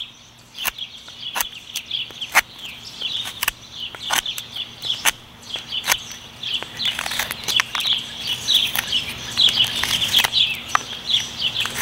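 Many small birds chirp and tweet outdoors in a steady scatter of short calls, some near and some farther off, with a few sharp clicks and light rustling mixed in and no talking.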